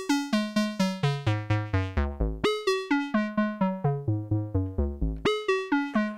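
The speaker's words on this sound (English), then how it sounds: "you can assign the LFO to lots of things, for example, to the filter" A synthesizer plays a fast, steady stream of plucky notes in a repeating pattern, an LFO sweeping the filter so the tone brightens and darkens slowly.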